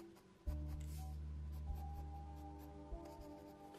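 Soft, steady pencil strokes scrape across paper in a continuous rubbing hiss while an ear fold on a One Piece Katakuri sketch is drawn; close and quiet with no talk.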